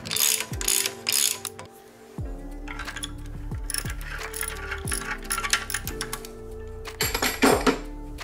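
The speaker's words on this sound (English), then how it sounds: "You gotta get a 24 mil socket on this," A ratchet wrench with a 24 mm socket works a bolt loose on a Nissan Skyline GT-R RB26DETT twin-turbo engine, giving close, repeated metallic clicking strokes in a steady rhythm with some clanks, and no talking.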